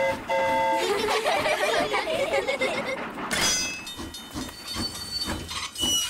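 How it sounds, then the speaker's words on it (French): A cartoon steam train rolls along its rails with a steady clatter and hiss, then a bright whistle-like tone cuts in near the middle, all fairly loud and close with music-like tones over the top. "le train roule sur les rails"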